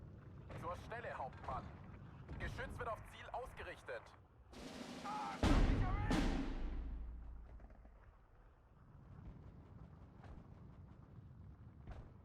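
Mortar fire in the Steel Division 2 war game: a sharp, loud blast with a long rumbling decay, then fainter distant thuds, while someone talks before and after the shot.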